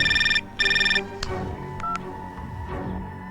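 A telephone rings in two pulsing electronic bursts during a Hindi social drama film, as a call is placed to Mani; quieter background sounds follow.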